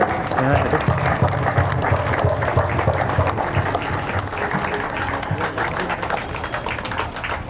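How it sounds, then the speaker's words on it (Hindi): A crowd at a Northern Railway Moradabad Division Independence Day function claps to welcome the chief guest, a steady, dense patter of applause lasting several seconds, with a voice audible beneath it. "कृपया मुख्य अतिथि का तालियों से अभिनंदन करने का प्रयास करें।"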